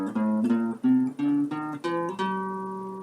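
A short passage in Aeolian mode moves through several sustained tonal chords in steady steps, then settles into a long held chord that slowly fades, with no one speaking.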